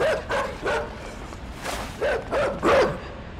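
Dogs in the video game Inside barking in short repeated bursts while giving chase, several yaps spaced irregularly, fairly close and clear.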